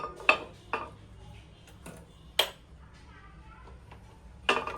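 A metal appe pan is set down on a gas stove in a home kitchen, with several sharp metallic clanks and clinks scattered across a quiet background, the loudest near the start and end.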